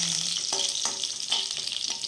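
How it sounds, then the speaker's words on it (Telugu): A tempering of chana dal, dried red chillies and curry leaves fries in hot oil, giving a steady bright sizzle broken by several soft scrapes of stirring. "కరివేపాకు రెబ్బలు 2 వేసి ఇప్పుడు ఈ పోపును బాగా వేయించుకోవాలి"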